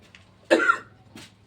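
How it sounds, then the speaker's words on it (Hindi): A single sharp cough from a person with a sore throat, close and moderately loud, followed by a fainter second cough, with no talking. "खांसी बहुत ज्यादा है"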